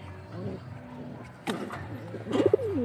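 Breeder pigeons in a small loft give a brief run of rolling coos near the end, rising over a low steady background hum after a few quieter scattered sounds.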